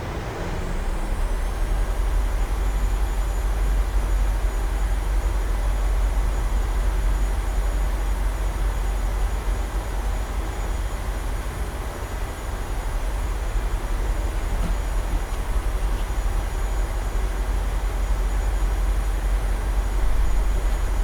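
A Boeing 737-800 in Microsoft Flight Simulator taxis with a loud, steady engine rumble and whine that holds unchanged throughout. No voices.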